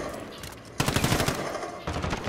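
Rapid gunfire in the video game Modern Warfare, loud and close, with a short burst and then a longer run of quick automatic shots.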